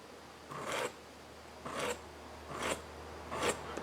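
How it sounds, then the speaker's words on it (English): A scratch awl taken from a combination square scribes a line down the middle of metal stock in a home workshop. Four short, quiet scraping strokes come at a fairly even pace with no voice. "We take our little scratch awl out of the back side of a combination square just like that, and we're going to lay one line down the middle"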